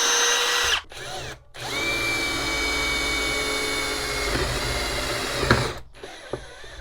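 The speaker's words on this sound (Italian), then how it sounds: "effettivamente è riuscito a forare senza nessun problema e la svasatura la esegue allo stesso modo" A Parkside countersink drill bit bores through a knot in wood, a loud, steady power-drill whine running for several seconds with brief pauses and a short restart near the end, no talk over it.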